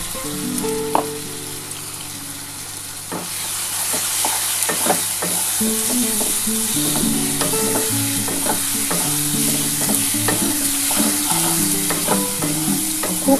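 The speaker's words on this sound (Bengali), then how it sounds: "ভালো করে কষাতে হবে যতটা কষানো যাবে ততটা কিন্তু রান্নাটা খেতে ভালো লাগে" Fish frying with mustard paste in a pan makes a constant loud sizzle, with repeated spatula scrapes and stirring taps throughout and no voices.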